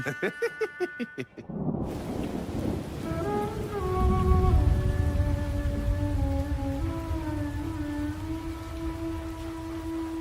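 Steady heavy rain pours down, a dense continuous hiss close and loud, with musical score tones layered over it and a rhythmic pulsing passage just before the downpour begins.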